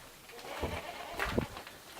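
A goat at a goat farm bleats in a couple of short, wavering calls at moderate distance, with outdoor background noise between them and no speech.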